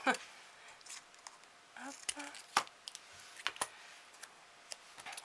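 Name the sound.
scissors cutting paper strips for a Christmas card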